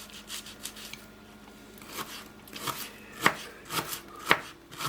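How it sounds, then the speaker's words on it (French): Shallots finely sliced with a knife on a cutting board, a quiet run of light, rapid taps and cuts that grows into a few sharper, louder chops toward the end; no voices. "Je vais les émincer assez fin."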